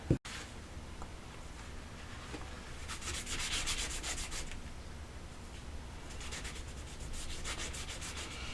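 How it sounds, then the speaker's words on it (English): A damp cloth rubs Waverly antique wax onto a wooden piece, soft close swishing strokes in short rhythmic bursts over a quiet background, with no talking. "we're just taking a damp baby cloth and wiping on this Waverly wax just to kind of give it like a stained look"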